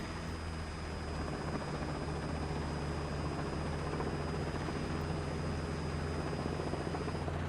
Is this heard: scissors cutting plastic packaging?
no